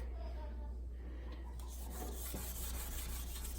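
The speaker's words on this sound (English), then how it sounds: "seeing what I can get off with scrubbing" Scrubbing on a dirty ceramic cooktop coated with Cerama Bryte cleaner, a steady soft rubbing rasp that runs without break and stays fairly quiet and close.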